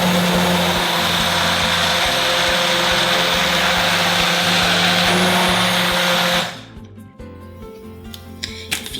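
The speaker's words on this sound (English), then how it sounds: "I get to use my immersion blender. It's going to make a puree soup," An immersion blender purees red lentil curry soup in a pot with a loud, steady motor whir that runs continuously and then cuts off, leaving faint clinks and rustling.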